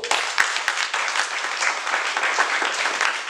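A church congregation applauds, giving dense, sustained clapping from many hands that fills the hall for several seconds at an even level.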